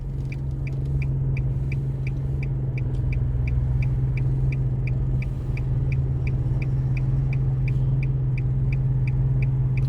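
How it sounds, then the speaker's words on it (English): Heavy traffic on a busy road at a left turn onto Ditmas Ave: a continuous low rumble of passing cars with a steady engine drone and a regular ticking, like a turn signal, throughout. "the traffic is heavy on both sides"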